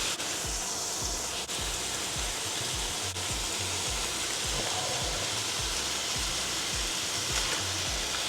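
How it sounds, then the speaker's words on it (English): Consommé sauce poured onto seared birria beef in a hot pot, sending up a dense, continuous roaring sizzle that stays loud and close for several seconds with no talking. "now that our meat is all seared, we're gonna go ahead and add our consommé sauce"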